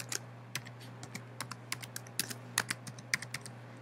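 Password being typed on a computer keyboard: a quick, irregular run of crisp keystrokes, fairly close and clear, over a steady low electrical hum with no talking.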